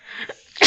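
A single sharp sneeze bursts out close by after a brief intake of breath, short and loud.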